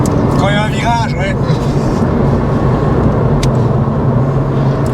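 A 2003 Porsche Boxster S (986) engine drones loud and steady at high revs from inside the car, with a voice talking briefly over it.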